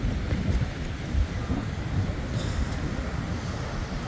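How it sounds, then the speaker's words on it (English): Strong wind buffets the microphone along a beach promenade in Tenerife, a steady loud rumble with gusts and no pause over the whole stretch. "Quite windy today though."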